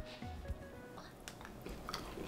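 Someone bites into crunchy chocolate chips and chews them close up, quiet crisp crunches coming in a few soft bursts.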